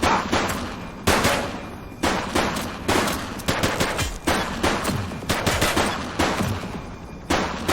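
Gunfire in a shootout in the video game The Precinct, with rapid bursts of automatic weapon fire and repeated sharp shots trading back and forth, loud and close, running nearly without pause and with no talking.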